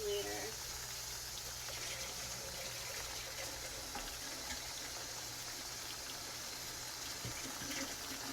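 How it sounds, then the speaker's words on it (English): Hot water runs from a kitchen tap into a bowl, a steady gushing splash that carries on throughout at moderate volume, with faint kitchen noise around it. "filling up my bowl with hot water"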